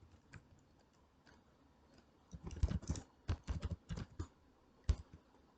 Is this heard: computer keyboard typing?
yes